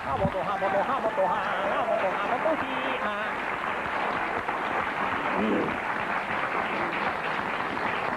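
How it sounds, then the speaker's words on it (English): Studio applause for DC 101's Greaseman on a morning show's dating-game segment, a steady wash of clapping lasting several seconds with voices talking over it. "let's give a big round of applause for DC 101's Greaseman"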